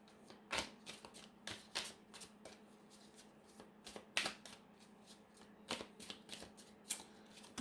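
Cards for a tarot-style reading are shuffled close by in a quiet room, with repeated quick riffling bursts at an irregular rhythm and a low steady hum underneath.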